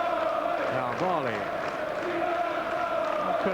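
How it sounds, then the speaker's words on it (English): Fulham supporters inside a stadium chant and cheer at an Arsenal match, a steady, mid-distance wash of crowd noise with tuneful sung phrases rising and falling above it, as from a large choir of fans. "Credit to the Fulham fans, they have kept chanting and cheering throughout the game."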